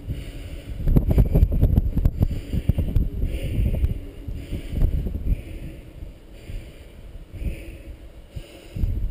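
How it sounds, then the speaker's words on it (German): Strong wind buffets the top of a 35-metre stone Bismarck lookout tower in the Palatinate, with irregular low rumbling gusts swelling and fading throughout. Faint voices can be heard beneath the wind. "Ach Gott, was ein Wind."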